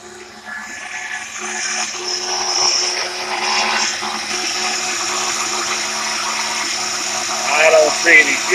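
Mazda RX7 rotary engine running on its first start in years, a steady droning hum with a buzzing, whiny edge that holds evenly throughout and swells slightly near the end.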